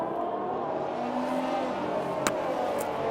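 A pack of racing cars drones around on a formation lap in an F1 video game, a steady engine hum with a faint whine rising through it, continuous and fairly distant.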